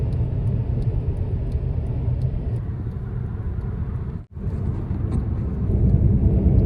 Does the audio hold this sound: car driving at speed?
yes